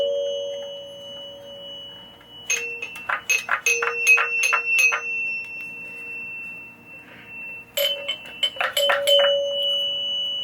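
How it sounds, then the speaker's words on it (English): Chime box from a 1976 Bally Night Rider pinball machine ringing in two bursts of bright, rapid bell strikes over a low steady hum, with a short pause between the bursts. "I forgot these need to chime this way."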